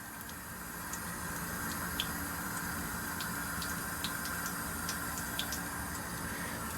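Water running from a basement sink faucet under strong pressure, a steady, moderately faint rushing hiss that continues unbroken, with small scattered splashes.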